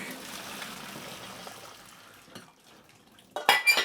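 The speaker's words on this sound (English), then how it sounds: "we're just going to drain it off in the sink" Cooking water poured off into a kitchen sink for bang bang chicken, a steady watery rush and trickle that ends in a few loud metallic clatters and splashes of a pan near the end.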